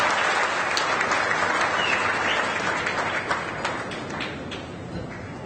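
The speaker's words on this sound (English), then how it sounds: "I would like to give a warm round of applause to our beloved Hegumen" Steady applause from a dinner audience honoring a Hegumen at a formal banquet during a papal visit in Canada, dense clapping filling the room for several seconds before tapering slightly.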